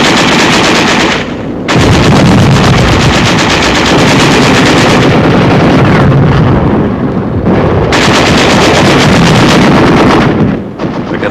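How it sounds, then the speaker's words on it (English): Heavy WWII machine gun fire rattles in loud, sustained bursts with occasional shell blasts, broken by two brief lulls, during a 1945 Third Army advance of tanks and infantry into a besieged city. "There is some machine gun fire and occasional shells, but little concerted resistance."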